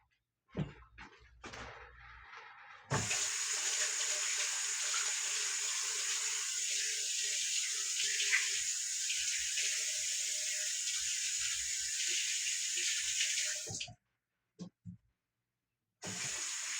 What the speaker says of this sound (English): I'm going to go back and wash my hands again.